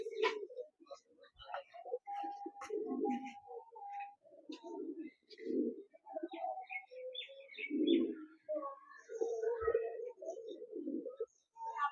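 Kaldoma pigeons cooing in a loft in Kolkata, low throaty coos repeating irregularly amid scattered chirps and faint rustling, fairly close and moderately quiet.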